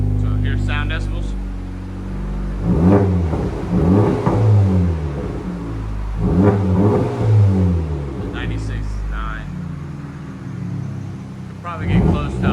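Close, loud revving from a 2024 Honda Civic Type R 2.0L turbo wearing an AWE cat-back exhaust: two or three strong throttle blips rise and fall over a deep idle rumble, with brief speech in between.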